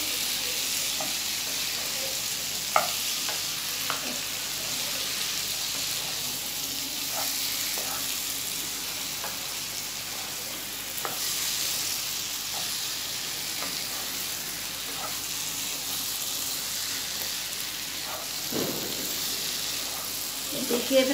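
Vegetables being stirred in a frying pan for a festive home-cooked meal, with soft continuous sizzling and occasional light scraping clicks of the spoon, low and steady throughout.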